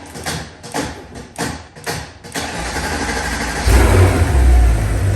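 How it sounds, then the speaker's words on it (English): The M156 engine of a 2008 Mercedes S63 with a hard-start crank issue cranks in several uneven bursts before catching, then fires up and settles into a loud running rumble that swells as it revs, close by. "It fired up now. And, you know, the engine's running."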